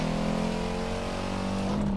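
Race car engine in Need for Speed: Carbon during a career-mode race, a loud steady drone with strong harmonic tone and slight pitch shifts as it revs, continuous and close throughout.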